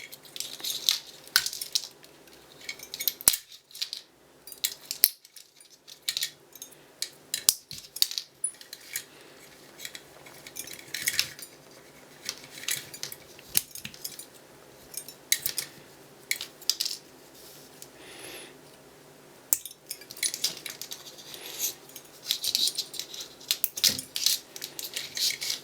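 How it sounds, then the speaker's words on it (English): Potting compound being peeled and pried off a 12V to 5V 3A converter: irregular small clicks, scrapes and crackles up close, scattered and quiet, with no talking. "I might be able to peel some of this off."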